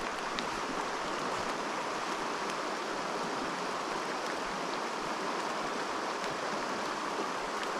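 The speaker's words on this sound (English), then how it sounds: "The rain is not making it easy for me to see anything" Steady rain falls beside a small trout creek, a continuous even hiss of drops and flowing water with no voices.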